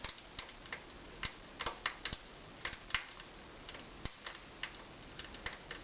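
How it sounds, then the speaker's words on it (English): Wood fire burning inside a wood stove loaded with small pieces of wood, giving off frequent sharp crackles and pops in quick irregular bursts over a soft steady hiss, close and fairly quiet with no talking. "The sound of the fire is very important."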